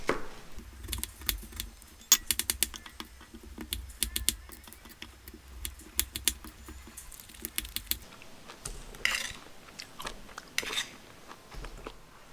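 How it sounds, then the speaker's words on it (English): A knife cutting a fresh pineapple in a kitchen in the Philippines, giving many crisp chopping clicks against a board in quick irregular bursts, close and clear, followed by softer scraping and handling noises. "So let's continue with our cutting of our pineapple here."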